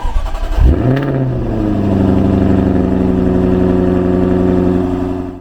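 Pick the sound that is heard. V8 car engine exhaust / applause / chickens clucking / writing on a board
V8 car engine exhaust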